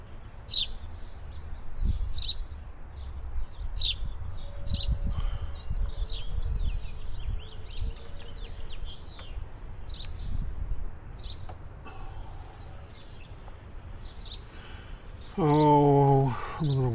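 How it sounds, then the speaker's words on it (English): Birds chirp inside a house attic, short sharp tweets scattered at irregular intervals over a low rumbling background, with a brief louder scraping noise near the end. "I'm a little worried birds have made it back in the attic."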